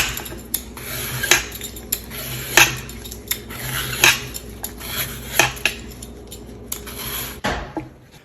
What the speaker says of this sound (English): let's go ahead and peel off our sweet potatoes here